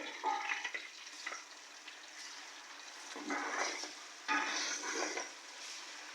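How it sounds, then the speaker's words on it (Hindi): Chicken with garlic ginger paste frying in a pot for yakhni pulao, a soft, quiet sizzle with intermittent bursts of stirring and scraping against the pot. "और इसका भी कच्चापन ख़त्म होने तक हम इसको फ्राई कर लेंगे।"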